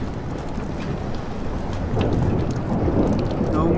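Heavy rain pours during a thunderstorm in the video game Life is Strange, a dense, loud wash of rainfall with deep rumbling thunder swelling underneath partway through, close and constant with no voices.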